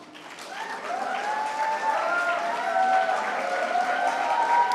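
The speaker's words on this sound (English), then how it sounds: "we can applaud for you" An audience applauds the event's organizing team and volunteers, steady sustained clapping that swells after a brief start and holds at an even level, with faint crowd voices mixed in beneath the claps.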